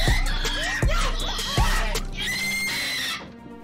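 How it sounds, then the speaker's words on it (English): Shrill, wavering screams and squeals from players of New Super Mario Bros U Deluxe rise and fall over game sounds and a low hum. "Stop screaming, please."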